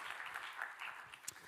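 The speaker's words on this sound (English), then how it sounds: "Round of applause for Heidi" Audience applause for a participant at a radio conference workshop, a short, fairly faint burst of steady clapping with a sharper clap near the end.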